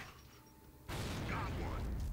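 A grenade detonates in Gears of War, a sudden loud broadband blast that starts after a quiet lull and then rolls on as a sustained rumble with scattered debris and crackle for over a second.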